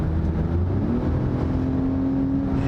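2020 Lexus RX 350 F Sport engine under hard acceleration from around 60 mph, a steady close drone inside the cabin with a pitch shift as the transmission downshifts.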